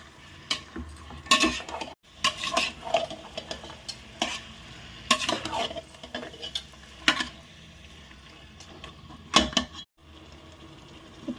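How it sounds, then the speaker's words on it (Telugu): Chicken is stirred into khichdi in a cooking pot, a metal spoon scraping and clacking in repeated close strokes with brief pauses between them and a faint sizzle underneath. "ఇందులో ఇప్పుడు చికెన్ వేసుకోవాలి ఒకసారి బాగా కలుపుకోవాలి"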